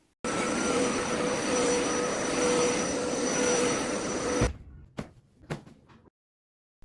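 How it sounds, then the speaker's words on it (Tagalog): A vacuum shampooer runs on carpet in an Airbnb house being cleaned, giving a loud, steady whirring drone for about four seconds that cuts off abruptly. A few short knocks and clatters follow. "sinunod naman yung vacuum shampoo para malinis at matanggal yung amoy ng carpet"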